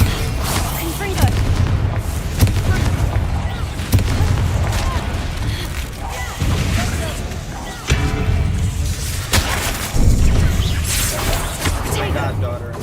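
Fiery spell blasts from the Confringo curse in Hogwarts Legacy, a series of booming explosive bursts over a dense roar of combat noise, with a voice talking throughout.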